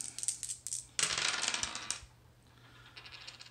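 Dice for a boxing board game rattle and tumble, with quick light clicks followed by a denser clattering roll up close, then a few scattered ticks as they settle.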